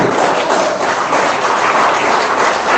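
A church congregation bursts into steady, dense applause mixed with shouting, a loud, continuous wash of clapping that fills the whole stretch without a break.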